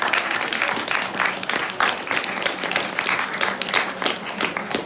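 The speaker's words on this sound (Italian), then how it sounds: "un grosso applauso e grazie per" Sustained applause from an audience at a history lecture, many hands clapping steadily for several seconds at an even volume.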